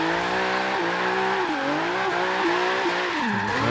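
A 700HP Hyundai Genesis Coupe drift build revs hard on a winding drift section, its engine note rising and falling in pitch with repeated throttle swells, loud and continuous with no talk.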